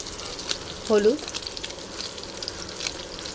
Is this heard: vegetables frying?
yes